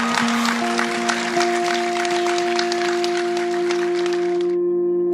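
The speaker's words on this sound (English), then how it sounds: "So we should all give ourselves a round of applause as well" An audience applauds with steady, dense clapping that fills the space, mixed with sustained ringing tones, then cuts off abruptly near the end.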